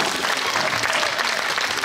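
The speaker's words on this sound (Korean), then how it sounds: "박수 한번 부탁드릴게요." A cinema audience at a live talk event in a Seoul multiplex auditorium bursts into steady, dense applause, loud and continuous throughout.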